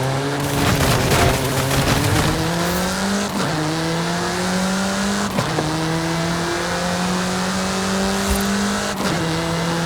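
A car accelerating in Forza 5, its engine climbing loud and close through repeated gear changes, each shift marked by a brief drop before the pitch rises again.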